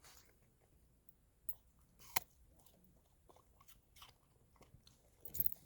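A dog bites and chews an apple, giving scattered crisp crunches and soft wet chewing sounds, faint and close with a few sharper snaps, no talk.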